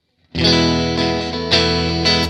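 A quacky PRS Silver Sky electric guitar tone from one pickup position, several chords strummed and left ringing with a nasal, bright twang, loud and close.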